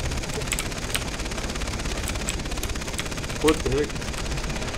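Continuous rattling gunfire in Far Cry 3 under a steady noisy background, moderately loud and sustained, with a player briefly speaking near the end.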